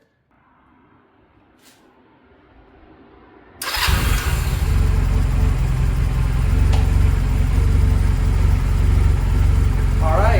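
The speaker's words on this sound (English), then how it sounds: "let me go ahead and start the bike, and we'll take a look" A motorcycle with a wrapped exhaust cranks over and fires up abruptly, then settles into a loud, steady idle, with someone speaking briefly before it starts.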